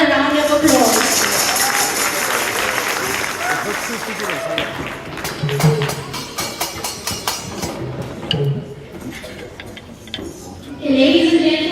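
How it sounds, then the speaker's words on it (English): At an East Rand Ram Bhajan anniversary event, an audience applauds the bhajan group with a dense crowd clapping that swells and fades over several seconds, with voices talking over and around it. "Let's give them another round of applause."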